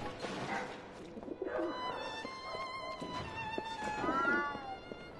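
A cat in Alice: Madness Returns gives several drawn-out, wavering meows over soft ambient background, moderately quiet and close.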